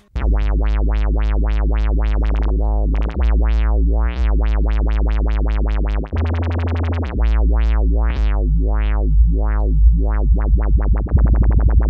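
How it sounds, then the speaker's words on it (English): A loud dubstep-style wobble bass from a Boss RC-505 loop station, its filter sweeping open and shut in shifting rhythmic pulses, speeding into rapid stutters near the end. "You can also do a dubstep style wobble bass effect with this combination, which sounds like this."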